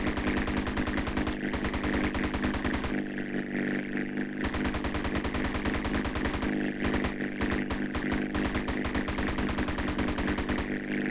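Rapid machine-gun fire from a Rustler plane shooting down military Hydra jets in Grand Theft Auto: San Andreas, heard as long, loud bursts of gunfire broken by short gaps.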